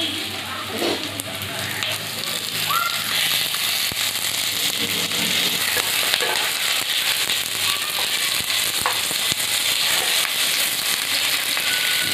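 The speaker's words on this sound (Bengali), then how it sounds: "দেখুন, এই পেঁয়াজগুলো, মশলাগুলো সব এইভাবে ভাজা করে নেবেন।" Steady, continuous sizzling of onions, tomatoes and spices frying in a hot pan, with faint crackles and occasional clinks throughout, close up and fairly loud.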